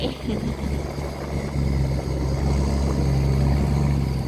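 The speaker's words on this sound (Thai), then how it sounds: "ลำนี้ขนาดใหญ่นะคะบรรทุกทรายมาเต็มลำเรือเลยท่านผู้ชม" A heavy boat engine drones low and steady, growing slightly louder as the vessel passes, with a rumbling hum over water.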